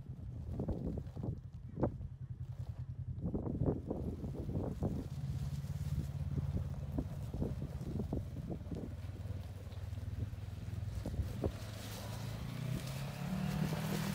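Polaris RZR side-by-side crawling up a rock at Prison Hill, Nevada: the engine revs in uneven bursts, then holds a steady throttle drone as it climbs, with some wind buffeting the microphone.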